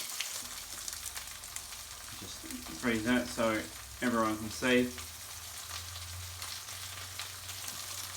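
Zucchini frying in a pan gives a soft, steady sizzle throughout, with a person talking briefly over it in the middle.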